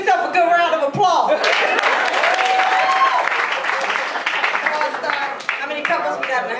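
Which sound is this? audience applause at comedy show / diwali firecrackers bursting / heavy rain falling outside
audience applause at comedy show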